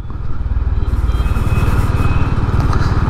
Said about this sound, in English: Thumpy motor.